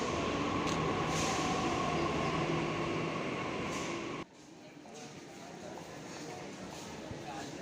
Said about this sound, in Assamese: এইখন ট্ৰেইনত আমি যাব লাগিব